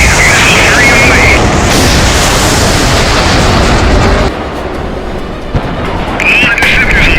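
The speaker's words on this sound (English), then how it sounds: "Launch sequence active. Missiles on the way." Missiles launch and explode in a loud, continuous roaring rumble of blasts and whooshes, with a brief dip midway before the noise swells again, under a voice speaking through it.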